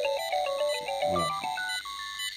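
A mobile phone rings during a call, its bright electronic ringtone melody repeating in short tonal notes, close and clear with no talk over it.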